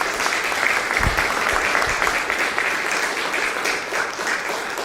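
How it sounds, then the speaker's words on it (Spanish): A church congregation in Utah claps loudly and continuously, a dense wash of hands with a few sharper claps standing out near the start. "denle un fuerte aplauso"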